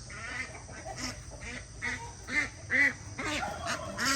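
Ducks at a farm with peacocks quack in a rapid series of loud, close calls, repeating irregularly over a steady background hiss, probably rain, with no talking.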